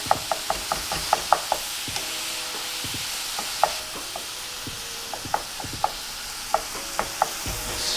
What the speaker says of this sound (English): We're gonna get this cooked. Just chop it up with our wooden spoon.